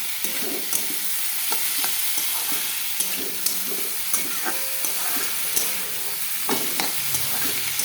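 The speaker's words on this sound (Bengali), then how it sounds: "এটা সুন্দর করে এখন ভাজা ভাজা হবে" Spices fry in a pan for a small fish curry, a constant dense sizzle close up, punctuated by light clicks and scrapes of stirring throughout.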